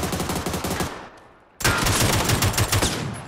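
Rapid bursts of AK rifle fire in PUBG, loud and close, with a brief drop to near silence midway before a second dense burst of automatic shots.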